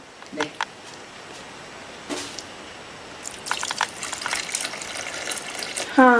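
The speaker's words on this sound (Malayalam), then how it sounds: "ചെറു ചൂടുവെള്ളം ചേർക്കണം" Lukewarm water poured into a coconut mixture, with light splashing and trickling, a few clinks of a vessel and soft scraping, close and moderately loud, with some quiet background voice.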